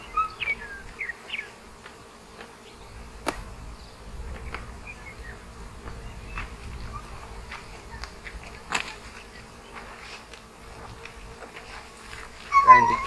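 Honey bees buzz around an open hive while a nuc is installed, a faint scattered hum with a few close fly-bys and light knocks from handling frames.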